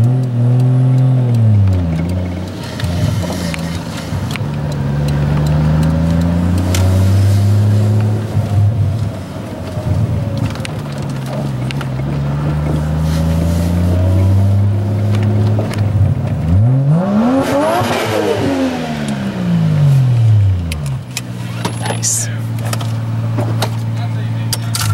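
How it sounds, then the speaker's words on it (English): A drift car's engine revs hard at full throttle, with its pitch climbing and falling through repeated up-and-down sweeps and one sharp drop and recovery midway. The sound is loud and close throughout. "that feels good to be able to go full throttle with only one hiccup, one fuel cut"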